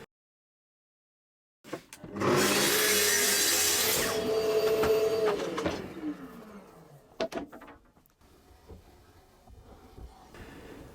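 A plywood cabinet back trimmed to height with a power saw: after brief silence the motor whines up loudly and cuts for a few seconds, then winds down, followed by a few clunks of handling.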